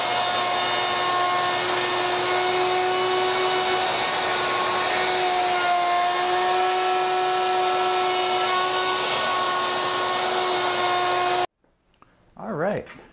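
A power tool cuts a deep pocket mortise for a multi-point door lock, droning loudly and steadily with a whining tone for about eleven seconds before stopping, followed by a brief voice.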